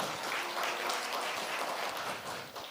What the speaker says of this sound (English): One more time, give yourselves a round of applause.